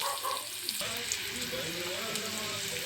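Onions dropped into butter over a low flame, a dense steady sizzle that swells after a brief soft start, close and continuous with faint talk beneath.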